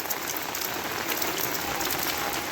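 Heavy rain pours over waterlogged fields in Dhobaura, a continuous, even, crackling hiss close by with no break and no voices.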